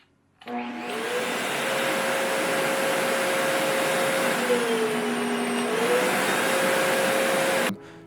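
An older vacuum cleaner motor starts up and runs with a loud, steady, rough droning hum, its tone dipping briefly midway before cutting off at the end.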